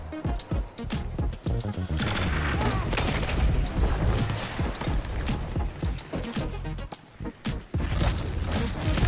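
Rapid fully automatic weapon fire in a Destiny 2 PvP match, dense loud bursts of shots with short pauses between volleys, mixed with game effects and a voice talking over it.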